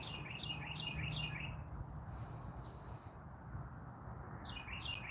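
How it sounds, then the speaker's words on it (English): Birds chirp outdoors among sunlit trees in Oklahoma, with quick repeated trilling phrases near the start and end and a brief steady whistle in between, over a soft background hum. "to actually listen to birds chirping"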